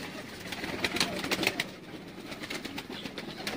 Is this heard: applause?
no